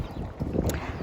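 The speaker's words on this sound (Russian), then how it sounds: "Ой, очень ветрено." Strong wind buffets the microphone outdoors in a vegetable garden, a brief burst of low rumbling gusts with no other sound.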